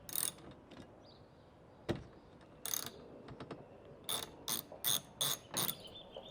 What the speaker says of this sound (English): you will need a 13mm socket head for a socket wrench or a spanner, and remove the nuts on both sides again